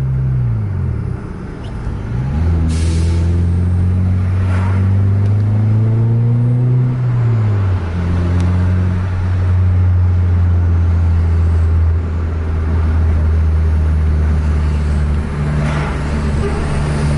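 A Hino R260 bus chases a Scania K410 bus, a loud, steady engine drone heard from on board with gear changes and rising and falling revs as the engine pulls hard, and no talking.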